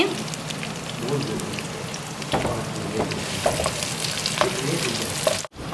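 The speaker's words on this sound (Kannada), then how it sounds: "ಇವಾಗ ಅದೇ ಎಣ್ಣೆಯಲ್ಲಿ ಇದಕ್ಕೆ ಮಸಾಲ ಫ್ರೈ ಮಾಡಲಿಕ್ಕೆ ಉಂಟು" Masala fries in hot oil left over from frying mushrooms and mutton, a loud, dense, continuous crackling sizzle broken by scraping stirs of a spoon against the pan.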